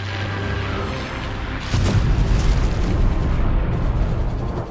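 A bouncing bomb explodes before a dam over an already loud rumble, a sharp blast followed by a sustained, heavy roaring boom.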